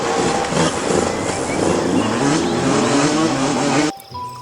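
Toy three-wheeled motorcycle giving off a loud, continuous buzzing engine whine with sweeping pitch like revving, running steadily up close before cutting off abruptly near the end.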